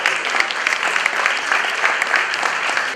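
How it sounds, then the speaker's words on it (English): Sustained dense applause from a gala audience at a charity foundation fundraiser, steady and loud throughout, many hands clapping together in a hall with no voice on top. "So I would like to request a big round of applause for that"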